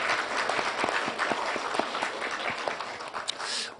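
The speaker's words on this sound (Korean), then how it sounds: "우리 서로에게 수고하셨다고 서로에게 좀 격려의 박수 좀 해주시기 바랍니다." A church congregation claps for one another in encouragement during a service, a full, sustained round of applause at moderate loudness from start to finish.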